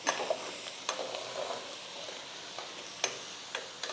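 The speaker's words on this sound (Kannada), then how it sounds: "ಚೆನ್ನಾಗಿ ಎಣ್ಣೆನಲ್ಲಿ ಸ್ವಲ್ಪ ಲೈಟಾಗಿ ಚೆನ್ನಾಗಿ ಬಿಸಿ ಆಗುವಂಗೆ ಇದನ್ನು ನೀವು ಫ್ರೈ ಮಾಡ್ಕೋಬೇಕು" Chickpeas frying lightly in hot oil in a pan give a soft, steady sizzle with a few sharp clicks and scrapes scattered through, heard close and alone.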